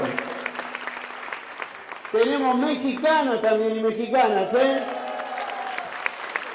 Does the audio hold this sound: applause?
yes